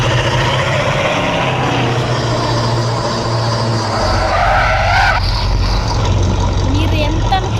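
A Lamborghini in a video game, engine roaring as it drives and then breaks into a long tire-squealing skid, loud and close, with game effects layered over the engine.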